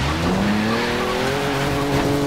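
A 1979 Toyota FJ40 Land Cruiser rolls over while rock crawling in the Forza Horizon racing game, giving a loud, continuous engine drone with scraping tire noise that runs steadily throughout without speech.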